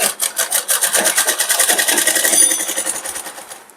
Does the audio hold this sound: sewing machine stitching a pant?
yes